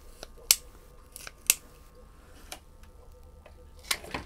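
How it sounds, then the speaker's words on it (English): Ironwood ratcheting pruners clip a Jerusalem cherry branch in a series of crisp, evenly spaced snips and clicks, close and fairly quiet against a low background hum. "we're going to take our ironwood ratcheting pruners. We're going to cut it straight down."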